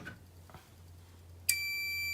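Fire alarm panel in alarm mode, a couple of faint clicks and then a sudden loud, continuous high-pitched electronic tone that holds steady to the end.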